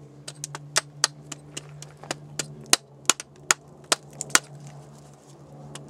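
Sharp metallic hammer strikes on hard rock, about fifteen irregular blows, loud and close, with a steady low hum underneath.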